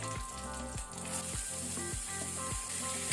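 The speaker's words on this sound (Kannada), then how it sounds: "ಇದನ್ನೀಗ ನಾವು ಮೀಡಿಯಂ ಫ್ಲೇಮ್ ಅಲ್ಲಿ ಲೈಟ್ ಬ್ರೌನ್ ಆಗೋ ತನಕ ಫ್ರೈ ಮಾಡಬೇಕು." Onions frying on medium flame in a pan for Andhra chicken curry, a close, continuous hiss and sizzle with a faint repeating scrape of stirring, no talk.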